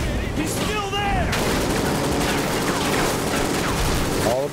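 Dense gunfire in Call of Duty Ghosts, a loud continuous fusillade of rapid shots and bursts with booming impacts throughout, with game voices briefly audible near the start.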